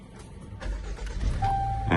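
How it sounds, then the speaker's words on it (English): A 2017 Land Rover Discovery engine cranks and fires, rising into a steady idle rumble close by, with a faint electronic tone near the end. "And the car starts right away"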